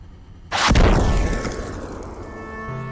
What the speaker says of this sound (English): more explosions go off